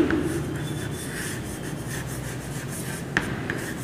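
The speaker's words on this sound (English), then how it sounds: "Let us write" Marker or chalk scratching across a classroom board in a maths lesson, a steady rubbing scrawl with brief sharper taps, fairly close and continuous.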